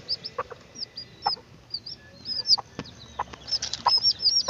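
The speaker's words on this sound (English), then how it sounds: "Wow, 3 chicks. 3 new chicks." Newborn chicks on a farm give high, thin peeps and cheeps in quick scattered bursts, with a few lower clucks from nearby fowl; close and fairly clear, with no talk.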